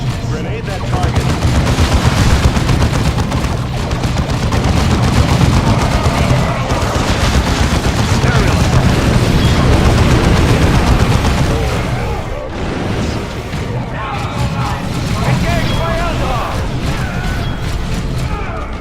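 A space marine tactical squad in Dawn of War 2 lays down dense, continuous rattling gunfire punctuated by grenade blasts, loud and sustained, with game voices faintly underneath.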